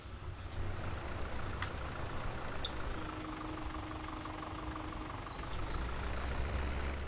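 Tractor engine idling in Farming Simulator 17 on the Sosnovka farm map, a steady low mechanical drone held at an even level throughout, with faint background clicks and no talk.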